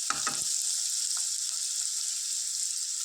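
Salted onion frying in a pan gives a steady, bright sizzle throughout, with a couple of quick utensil scrapes at the very start and otherwise an even, moderately loud hiss.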